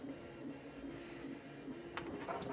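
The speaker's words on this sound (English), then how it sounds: "Let's see if we can get this printer up and running again." An Anycubic S1 3D printer running steadily, with a faint, even motor hum and a soft high whine, plus a couple of brief light ticks near the end, heard alone without voices.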